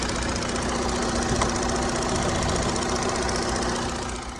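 A 2017 Skoda Octavia or 2011 Opel Zafira engine idles steadily with a constant low hum and rhythmic mechanical ticking, close by and unchanging throughout.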